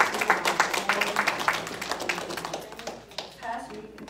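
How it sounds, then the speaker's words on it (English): A church congregation claps hands during a Sunday service, a dense run of quick overlapping claps that thins out toward the end while voices carry underneath. "Give God a hand clap."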